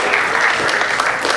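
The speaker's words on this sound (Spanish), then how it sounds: "Un aplauso fuerte al Señor." Brief burst of congregational applause in a Spanish-language church service, loud dense clapping throughout the short moment.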